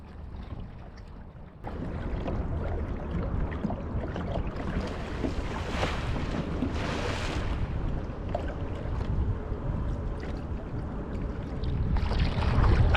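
Kayak paddling on the Indian River in Florida, a steady wash of water and wind noise around a small boat, with soft splashes and paddle strokes running through the whole stretch.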